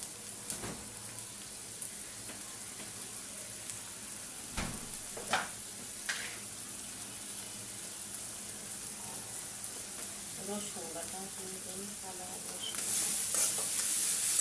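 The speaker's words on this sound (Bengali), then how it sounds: "চিংড়ি মাছ আর মশলা একসাথে আমি কষাই নিব আজকে" Prawns frying with spices, ginger and garlic in a pan, making a soft continuous sizzle broken by a few sharp clinks and stirring scrapes, growing louder and hissier near the end; no one speaks.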